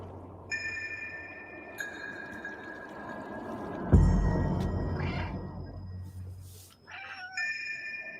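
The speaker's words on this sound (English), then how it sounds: "you play as a stray cat in a world where there are no humans" Cat meows from the video game Stray, several drawn-out electronic-tinged cries over a low steady hum and game ambience, with a louder burst midway and more calls near the end.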